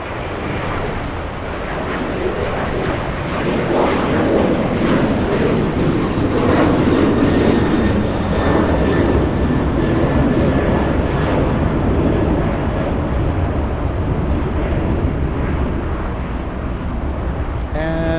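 An Alaska Airlines jet roars down the runway on its takeoff roll at LAX, a loud, sustained engine rumble that swells and holds throughout, with the faint hiss of an outdoor airport setting around it.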